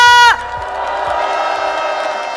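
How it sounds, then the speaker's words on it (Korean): Crowd at an outdoor political rally of opposition parties cheering and clapping, a sustained dense roar that takes over after a brief tone fades and holds steady throughout. "다시 한번 커다란 박수 부탁드립니다"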